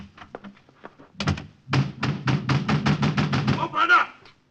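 Knocking on a door as a sound effect in a 1950 radio drama, a quick run of sharp, evenly spaced raps following a few softer taps, loud and close with no talk over it.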